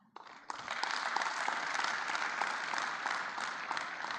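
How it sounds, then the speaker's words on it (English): Sustained applause from a sizable crowd, dense steady clapping that swells up quickly after a brief quiet start and holds. "A round of applause."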